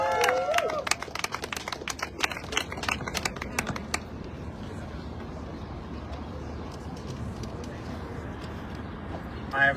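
A crowd at an outdoor housing rights rally in East New York claps for about four seconds in loose, scattered hand claps, then the noise settles into a murmuring open-air crowd with voices in the background.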